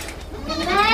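A Sojat pink goat bleats on a farm in Haryana, a single rising, wavering call that grows louder toward the end, close by and fairly loud, over low background noise.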